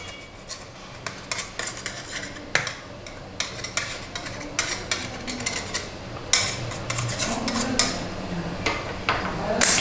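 Metal spatula tapping and scraping against a plate or mould while demolding a sushi cake: a run of short, close clicks and clinks at an irregular pace, with no talk.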